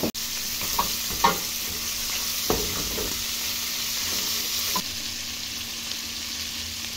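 Tocino sizzling as it fries in a pot with beans for frijoles charros, a steady crackle with a few louder stirring knocks near the start, close and alone.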